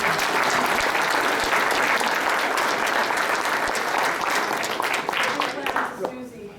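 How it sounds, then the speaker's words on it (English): Audience applause at a membership meeting, steady dense clapping from a large group that holds strong for about five seconds before thinning and fading out. "Let's give a round of applause."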